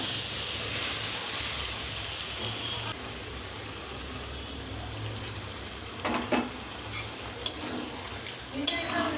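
Water poured into a pan of simmering cauliflower korma hisses and sizzles, loud at first and then settling into a softer steady sizzle, with a few clinks of stirring near the end.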